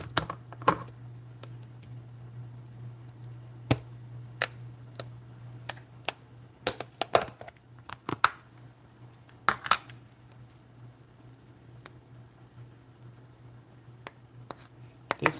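An onion being cleaned and washed off by hand: close papery crackles and sharp scattered clicks, some in quick clusters, over a steady low hum.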